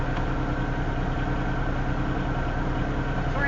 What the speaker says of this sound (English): this is idling up while the train is sitting here.